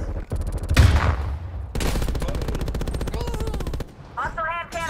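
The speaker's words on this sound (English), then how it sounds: "Hostile hand cannon firing." Rapid bursts of heavy hand cannon gunfire in Call of Duty: Black Ops Cold War ring out in quick succession, loud and close, with brief electronic tones and effects between volleys.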